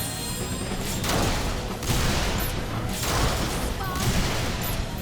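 Rapid gunfire from pistols and submachine guns aimed at robot enemies in a PS3 role-playing game, dense bursts and booms in quick succession under ongoing talk.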